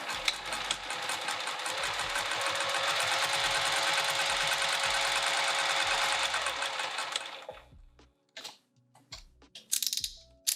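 A sewing machine runs steadily while stitching a piped bag, a dense continuous mechanical whir for about seven seconds that stops abruptly, followed by a few scattered clicks and handling noises.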